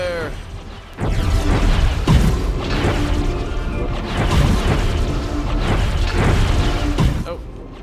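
Bombs bursting in the video game Song of the Deep, a run of heavy booms and crashes rolling one after another over a loud, continuous din, with a few sharper impacts standing out.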